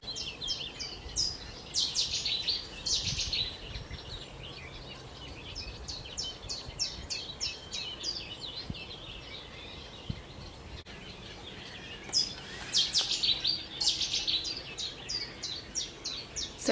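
At dawn on a local nature reserve, a chiffchaff, a Cetti's warbler and a sedge warbler sing together. Bursts of high, rapid chirping repeat over a faint outdoor background, and one louder outburst comes near the end.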